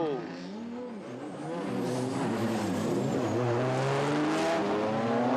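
Drift cars race through the chicane at Okayama International during Formula Drift Japan, engines revving and wailing as they approach and grow louder, with a commentator talking over the roar.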